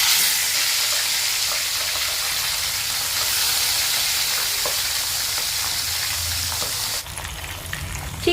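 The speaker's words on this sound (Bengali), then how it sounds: "সরষের তেলটাও এবার গরম হয়ে গেছে, মা এবার এক এক করে মাছগুলোকে ভেজে নেবে।" Pabda fish frying in hot mustard oil, a steady loud sizzle and hiss that runs throughout, easing slightly near the end; no talk.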